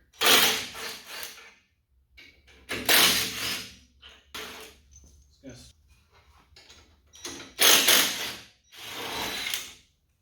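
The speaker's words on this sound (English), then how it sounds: "You need a 15mm socket. Just be ready to catch it once you get the last bolt out." A 15mm socket wrench ratchets out the bumper bolts on a Ford Bronco during a bumper install, with four loud, close bursts of rapid clicking separated by brief pauses.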